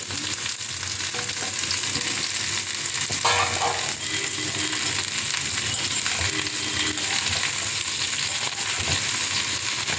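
Okra sizzling steadily in a hot pan while being stirred, a continuous close frying hiss with occasional scraping and clinks of the spoon against the pan, no voices.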